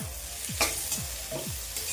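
Rice rava upma with vegetables stirred in hot oil in a pan, a spoon scraping in four or five quick rhythmic strokes over a steady low sizzle.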